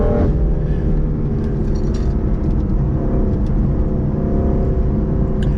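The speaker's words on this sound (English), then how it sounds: "just winding out this S55, thrusting the front end" A BMW F82 M4 with its S55 engine winds out in third gear, a steady loud mechanical drone and whir heard from inside the car, sustained without a break and with no talking over it.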